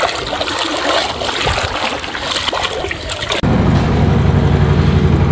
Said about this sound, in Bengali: সামনে দেখতে পাচ্ছেন একটা কিন্তু ইঞ্জিন নৌকাও চলে আসছে মানুষ উদ্ধারের জন্য